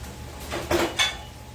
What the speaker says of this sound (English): Let me get my tongs. I'm going to need my whisk for my gravy.